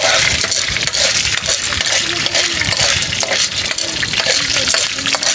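Popcorn frying in a pan on a stove burner, giving a dense, loud, steady sizzle with scattered small pops and clicks throughout, close by and without speech.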